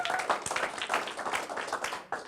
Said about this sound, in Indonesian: Tepuk tangan buat Anda semua, Bapak Ibu.